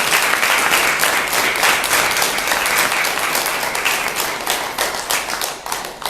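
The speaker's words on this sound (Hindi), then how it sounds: "एक बार जोरदार तालियों से आप अभिनंदन करें" Audience at a farewell ceremony bursting into loud, sustained applause, dense clapping from many hands close by that thins slightly toward the end.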